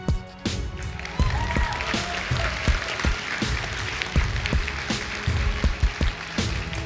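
Audience applause during a political speech, a dense sustained clapping from a large crowd filling the whole stretch, loud and close with no voice over it.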